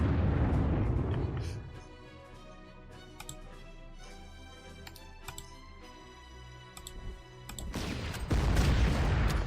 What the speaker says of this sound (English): Mobile artillery is coming in.